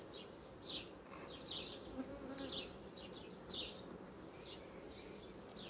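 Honeybees buzz steadily inside a hive during colony work, a dense close drone with brief louder buzzes of individual bees passing near, no talk.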